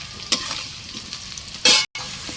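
Bay leaves, cumin and whole spices crackle and sizzle in hot oil, a steady frying hiss with a sharp louder burst near the end, close and alone without any talk.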